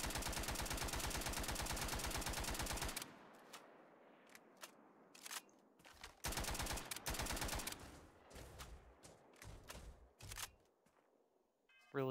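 Loud automatic gunfire from a Call of Duty gun mod in Starfield, a sustained burst for about three seconds followed by scattered shorter bursts and single shots with gaps of quieter game ambience.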